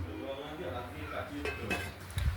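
A metal lid comes off a cooking pot of boiling potatoes, a few light clinks and scrapes of metal near the end, close and quiet over a faint background murmur.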